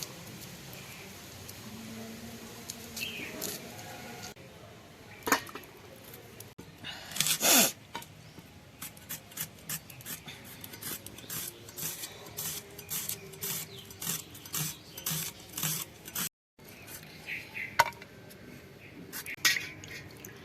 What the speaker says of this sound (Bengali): তো পেঁয়াজগুলোকে একদম কুচিয়ে নেব খোসা ছাড়িয়ে জলের মধ্যে ভিজিয়ে তারপরে এগুলোকে ভালো করে কুচিয়ে নেবো